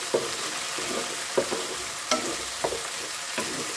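Sardines and egg fry in a pan while being stirred, a soft steady sizzle broken by five or so sharp scraping strokes of the utensil, close up and with no voices.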